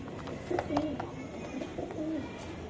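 Soft, low cooing from Budapest pigeons, several short coos in a quiet stretch, faint and near, with a voice murmuring in the background.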